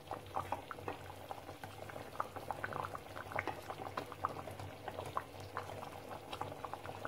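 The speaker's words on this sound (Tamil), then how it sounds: "இது நல்லா கொதிச்சு நல்லா திக்கா வந்துச்சு" Drumstick curry bubbling steadily in a pot, a dense continuous patter of small popping bursts with a low simmering rumble underneath, close and moderately quiet, no talking.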